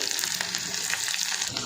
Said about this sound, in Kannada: ಈ ನುಗ್ಗೆಕಾಯಿ ಸಾರಿಗೆ ಒಗ್ಗರಣೆಗೆ 1 ಸ್ಪೂನಷ್ಟು ಎಣ್ಣೆ, ಸಾಸಿವೆ, ಸ್ವಲ್ಪ ಜೀರಿಗೆ,